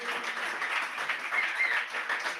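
A small audience at a cultural event gives warm, continuous applause, a close, even patter of clapping hands that holds steady for a couple of seconds.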